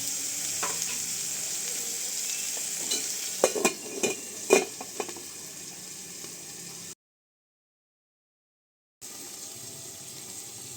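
Chopped tomato sizzling in hot oil in a pan for a village-style egg, drumstick and prawn curry, with steady frying hiss and a few sharp clattering stirs and scrapes near the middle before the sound cuts out briefly.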